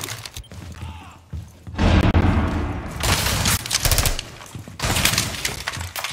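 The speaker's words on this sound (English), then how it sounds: "Throwing flashbang!" A flashbang grenade goes off during a Rainbow Six Siege match, a loud close burst followed by rapid gunfire and dense crackling blasts that carry on for several seconds with barely any talk.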